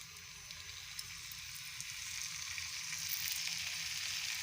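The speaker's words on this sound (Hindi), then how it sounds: "ये 2 चम्मच ऑयल जाएगा। इसको ग्रिल करना है चिकन को।" Chicken sizzles in about two spoons of oil in a pan while being grilled for shawarma, making a steady close hiss that swells slightly louder over a few seconds, with faint crackles and no talk.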